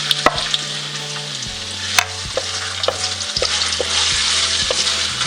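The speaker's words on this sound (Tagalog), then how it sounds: "Unahin po nating igisa itong ating luya." Thinly sliced ginger sautéing in hot oil in a pan for chicken paklay, with a continuous close sizzle broken by regular spatula taps and scrapes, over a low background hum.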